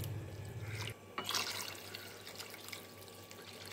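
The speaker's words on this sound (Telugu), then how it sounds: "ఇంకా తగినన్ని వాటర్ కూడా పోసుకోవాలి." Water is poured into a pot of tomato rasam, a steady gurgling pour that breaks off about a second in, then continues as softer liquid splashing and dripping close by.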